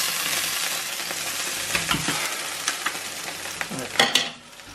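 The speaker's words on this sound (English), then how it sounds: "that's them browned on both sides, so Rico's just taking them out the frying pan now into the tray" Browned lamb pieces for kavourma sizzle loudly in a hot frying pan while being stirred and lifted out into a tray, with scraping clinks of the utensil against the pan and no talking.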